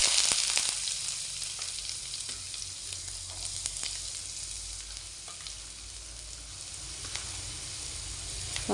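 Onions fry in a hot pan with a constant crackling sizzle, punctuated by occasional sharper pops and the scrape of stirring, close and fairly loud throughout.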